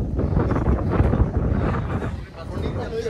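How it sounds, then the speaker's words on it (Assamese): Strong wind buffets the microphone at a hilltop viewpoint over the Dibang Valley near Anini, a close, rumbling roar with uneven gusts while a person talks over it. "আৰু বহুত জুৰে বতাহ মাৰি আছে"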